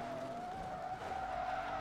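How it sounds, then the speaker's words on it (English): Tires skid with a sustained squeal as a car spins out in the racing game Forza Motorsport 2, a steady tonal screech over engine noise lasting the whole moment. "How have I managed to spin a car in this game?"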